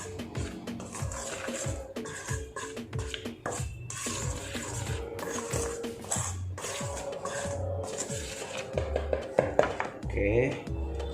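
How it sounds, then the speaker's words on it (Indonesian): Tapioca flour, chicken powder and coriander batter stirred in a bowl for peanut peyek, giving a steady run of close scraping clicks and taps against the bowl, with a voice talking throughout. "Kita aduk dulu ya sampai dia rata."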